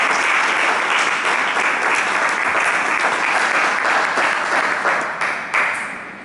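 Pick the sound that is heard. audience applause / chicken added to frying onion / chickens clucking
audience applause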